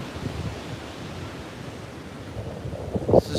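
Ocean waves wash onto a Long Island shore under steady wind, a soft continuous rushing surf with gusty microphone buffeting and a brief louder swell near the end.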